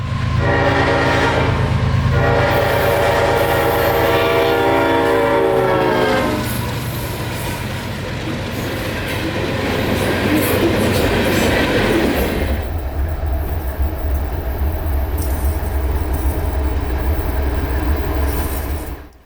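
CSX freight locomotives 1776 and 3194 pass at full throttle in Florida, a loud continuous diesel roar with a long sounding horn near the start and steady rumble of the train afterward.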